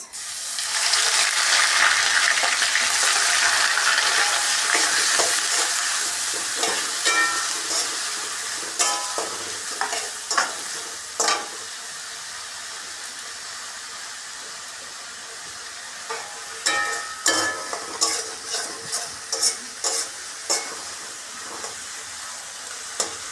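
Chopped onion fries in mustard oil with cumin, bay leaf and cardamom, starting as a loud, dense sizzle that gradually settles, and later stretches are dotted with sharp spatula clinks and stirring scrapes.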